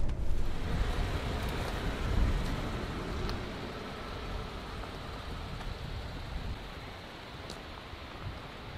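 Strong wind blows across a lake at a hydro dam, a steady broadband roar with gusty buffeting against the microphone, loud and continuous with no voices.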